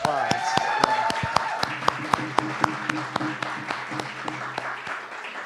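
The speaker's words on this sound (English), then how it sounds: "A round of applause." A small audience gives a round of applause at a community event. The sharp, separate claps come in a steady rhythm and stay moderately loud the whole time.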